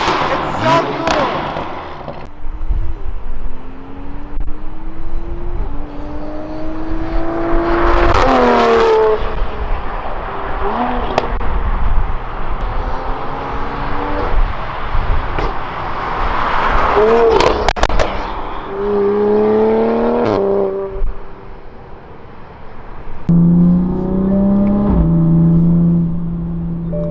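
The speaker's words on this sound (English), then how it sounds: "the exhaust is nice because you can hear it if you roll the windows down a little bit better" Toyota Supra with a racing muffler on a drive, exhaust heard from inside the car as it accelerates through rising gear pulls with thumps between shifts, under conversation from the occupants.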